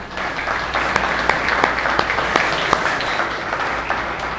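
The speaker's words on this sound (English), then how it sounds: "let's give them a round of applause." A baseball banquet audience gives a round of applause, dense steady clapping with a few sharp individual claps standing out, continuous for several seconds.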